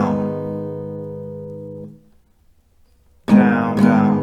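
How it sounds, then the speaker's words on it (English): An acoustic guitar sustains a decaying strummed chord that dies into silence, then returns with a down, down, clap, down strumming pattern of crisp strums and a percussive slap on the strings. "Down, down, clap, down."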